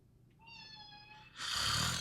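A cat meows once, a clear drawn-out cry up close, followed by a brief hissy burst of sound.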